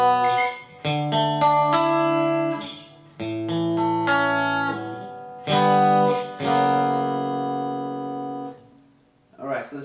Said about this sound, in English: So all together we have this for the first part of the first pre-course.